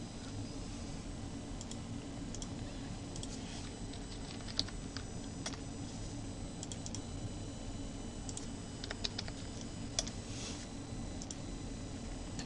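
Quiet, steady tapping of keys on a computer keyboard while a layer name is typed in Photoshop Elements, a light run of clicks over a constant background hiss with no talking.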